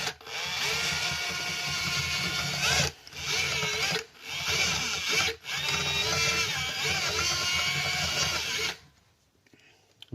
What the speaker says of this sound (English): what we're going to have to do is to drill them out